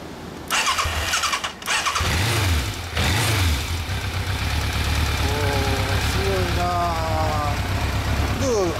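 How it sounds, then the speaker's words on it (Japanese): A Yamaha FZX750 motorcycle engine starts and idles with a steady low rumble, revving up a few times, while people talk nearby over it. "エンジン音聞かせてもらえますか？"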